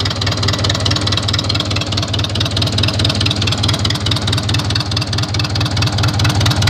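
A tractor-like engine idling with no exhaust pipe, loud and close, with a rough, steady low throb and rapid pulsing knocks and no voices.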